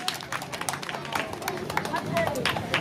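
An audience at a Christmas tree event applauds, irregular claps rising in density throughout, mixed with crowd chatter and voices close by.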